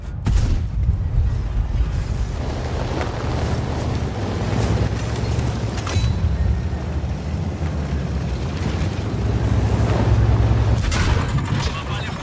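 Heavy tank cannon fire from a World of Tanks–style Steel Hunter battle: low booming rumble with a few sharper impact blasts, under constant engine and battle noise while a player talks over it.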